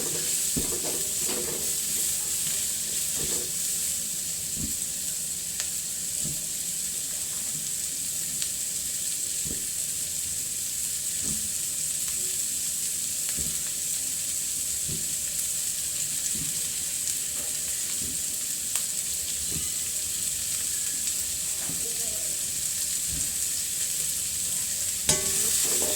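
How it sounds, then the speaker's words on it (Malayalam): Continuous loud sizzling of food frying in a hot pan, punctuated by frequent light clicks and scrapes from stirring. "നമുക്കൊന്ന് വഴറ്റി കൊടുക്കാം."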